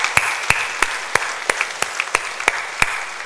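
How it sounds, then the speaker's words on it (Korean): Steady rhythmic applause from a church congregation at a Sunday worship service, sharp regular claps close by, without any talking. "박수로 영광 올려드리겠습니다."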